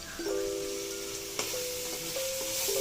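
Poppy seeds fry in oil in a pan for a pulav with chicken liver curry, a steady soft hiss with a light clink near the middle, as background music plays over it.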